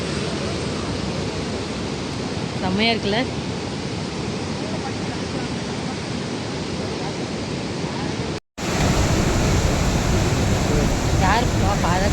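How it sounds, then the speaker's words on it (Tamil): Heavy water roaring out of the Mettur Dam, a loud broad continuous rush that fills the whole clip, with brief talk heard over it. "ஆர்ப்பரிக்கும் மேட்டூர் அணை தண்ணீர்"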